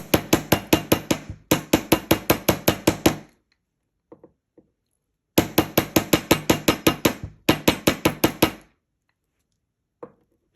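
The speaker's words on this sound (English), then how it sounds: "We're going to grab our chasing hammer. And we're going to hammer this side down." Rapid bursts of sharp metallic chasing-hammer taps flattening jewelry wire, around a dozen blows per burst, two long runs separated by quiet gaps with a few stray knocks.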